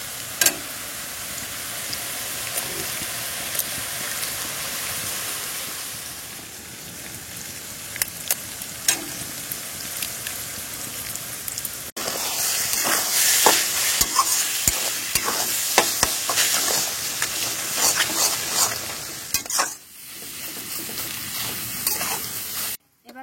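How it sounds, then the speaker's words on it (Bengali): Egg sizzles in hot oil in a pan for village-style chow mein, with steady frying hiss and repeated scraping and stirring that grow louder and busier toward the end. "এবার আমি ডিম দিয়ে দিচ্ছি।"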